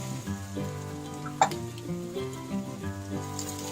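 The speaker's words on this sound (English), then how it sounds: "Saute it till the color changes to golden brown." Grated ginger and chopped onions with green chilies sautéing in a pan for samosa filling, giving a gentle continuous sizzle with one sharp tap partway through, under a layer of steady tonal background sound.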